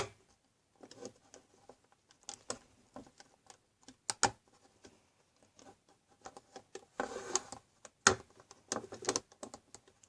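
Scattered small snaps, plastic clicks and rustles come in irregular bursts as a rubber band bracelet is pulled off a Rainbow Loom, close and fairly quiet.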